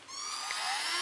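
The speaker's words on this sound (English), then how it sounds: "Now what's nice about using a Dremel like this is as soon as you see sparks, that's when you know it's done." A Dremel rotary tool grinding on a die-cast Hot Wheels car body, a steady high-pitched continuous whine, close and loud, with no talk.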